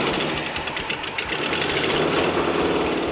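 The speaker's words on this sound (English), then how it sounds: "it's time to fire up the engine" A 1948 Ford F2 truck engine cranks and catches, then runs rough and uneven with a loud, continuous knocking clatter close by.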